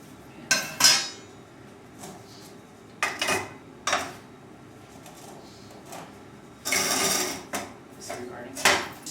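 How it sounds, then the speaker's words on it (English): Metal soil sieve pans lifted off a sieving machine, giving a series of sharp clanks and scraping metallic clatters in separate bursts against a faint background hum. "it's time to pull the pans off the sieving machine and take their mass samples"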